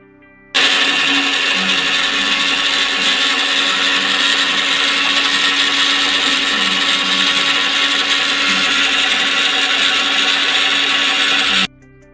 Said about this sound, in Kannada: ಈಗ ಇದಕ್ಕೆ ನಾನು ಸ್ವಲ್ಪ ನೀರನ್ನು ಆ್ಯಡ್ ಮಾಡಿಕೊಂಡು ಇದನ್ನು ಮತ್ತೆ ಸ್ವಲ್ಪ ರುಬ್ಕೋತೀನಿ